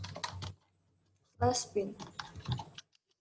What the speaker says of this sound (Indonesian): Lalu kita ketikkan cd SUM MySQL/bin.